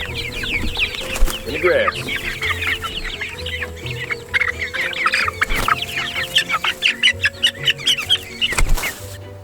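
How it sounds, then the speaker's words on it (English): Hatchery chickens from Murray McMurray Hatchery cluck and chatter close by in the grass, a busy run of repeated clucks with a brief spoken remark under it. "Both of these chickens here that we got from Murray McMurray Hatchery"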